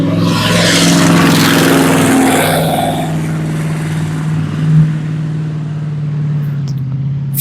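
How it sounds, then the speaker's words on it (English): A loud, rumbling Nissan Titan truck with its exhaust cut off roars close by, then fades steadily as it moves away, leaving a low droning hum. "you cut the fucking exhaust off a Nissan Titan"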